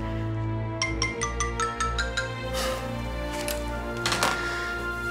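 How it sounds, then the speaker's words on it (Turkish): A mobile phone ringtone in a Turkish TV drama scene plays as a run of quick, evenly spaced beeps, then shifts into a brighter ringing tone over a steady background. "Hadi sen de aç şu telefonu"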